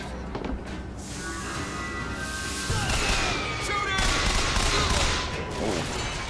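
Dense gunfire rattles through a Bioshock Infinite firefight, overlapping bursts and shots that run continuously at close, loud range for several seconds.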